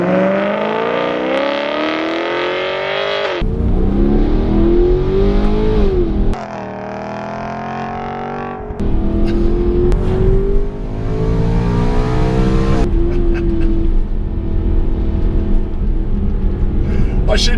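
BMW M3 engine revving hard while driving on a wet road, a loud sustained roar rising and falling through the gears, with a brief drop at a downshift, close and continuous.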